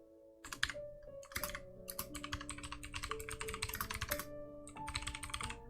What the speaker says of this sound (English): So can I type on this?